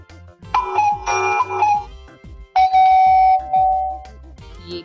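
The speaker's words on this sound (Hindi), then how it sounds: "ये तो घंटी की, घर की घंटी की आवाज है।" A house doorbell chimes twice, each ding-dong ringing out clearly and lingering, with a brief pause between the two rings.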